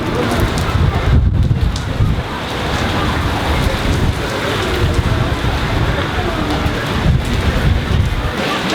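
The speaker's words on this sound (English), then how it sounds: "It is all of a sudden very windy, it's raining out there." Strong wind roars and buffets constantly while rain hisses steadily, loud and close, in Skegness, with a person speaking now and then beneath the noise.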